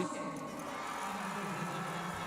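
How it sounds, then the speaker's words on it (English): A crowd at a speed skating World Cup race in Tomaszow Mazowiecki cheers in a steady, distant roar that fills the whole moment, with indistinct voices mixed into the din. "listen to that cheer"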